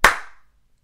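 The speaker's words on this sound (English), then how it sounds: "Do you want to clap or shall I?" A single sharp hand clap, close and loud, with a quick ringing decay and nothing after it.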